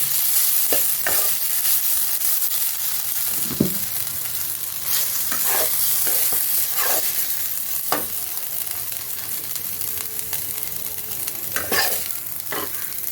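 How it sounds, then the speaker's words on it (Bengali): Dhenki fern greens fry in a pan on a low gas flame while being stirred, with a steady soft sizzle and repeated scraping and clinking strokes of the spatula, close and alone. "দেখুন আমি নেড়ে চেড়ে একদম ভেজে নিয়েছি, ঝুরঝুরে ভাজা হয়ে যাবে।"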